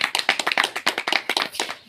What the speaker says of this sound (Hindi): मैं श्रीमान मनोहर जी को इनवाइट करता हूं, आप सभी की तालियों के साथ वेलकम करता हूं।